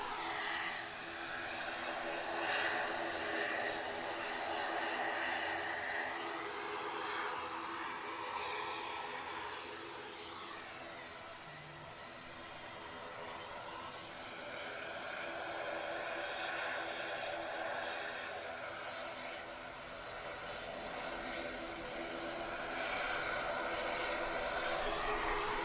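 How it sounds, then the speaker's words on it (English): An ATR turboprop airliner passes overhead at an airport, its engine drone rising and falling as a steady, fairly distant roar that runs throughout, with faint talk in the background. "This ATR is on the return leg to Dublin, I think."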